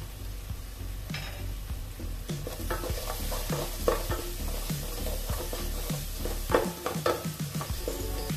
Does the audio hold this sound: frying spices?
yes